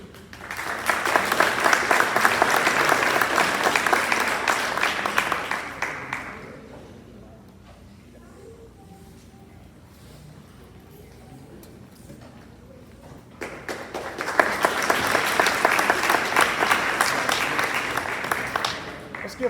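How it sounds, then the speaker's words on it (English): Applause from a school board meeting audience, a loud sustained round of clapping that fades to near silence, then a second burst of clapping swells up again. "Let's give all of them another round of applause real quick."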